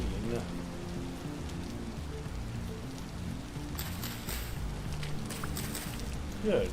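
Rain falling in a survival video game, an even wash of pattering drops that swells slightly near the end, heard under game music and occasional effects without speech.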